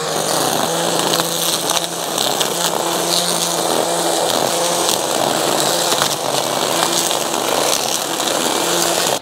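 A Litheli U20 battery-powered string trimmer runs at low speed cutting grass grown out for four to five weeks, giving a steady, close motor whine that holds evenly throughout with no talking.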